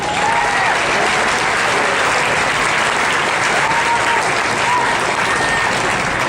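Steady, loud crowd applause fills a livestock show ring as a pig exhibitor leaves, dense continuous clapping without a break, with faint voices mixed in.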